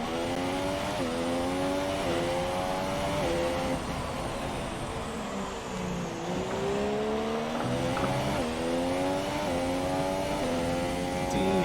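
A Formula 1 race car in F1 2017 drives a lap at the Brazil circuit. The engine howls continuously and loudly, and its pitch climbs and drops sharply with repeated upshifts and downshifts through the corners.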